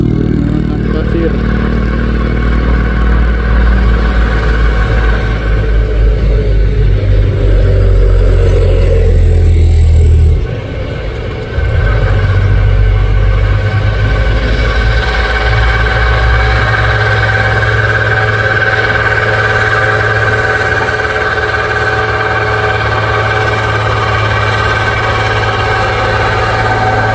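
Fuso truck loaded with sand labours up a hill, its engine droning loud and close, rising and straining with a brief dip midway before the heavy rumble resumes steadily, no talk.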